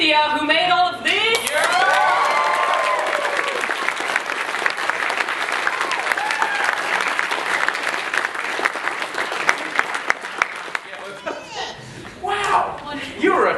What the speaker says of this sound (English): And a big round of applause for Anthea